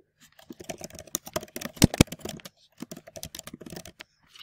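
Rapid keystrokes on a computer keyboard while a post is typed: close, crisp clatter in quick irregular bursts with a short pause midway and one louder double tap.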